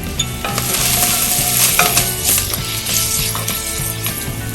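Ground coriander and turmeric frying in a pan for a turkey meatball coconut curry, a loud steady sizzle with occasional scrapes and a faint mechanical hum underneath, no talking.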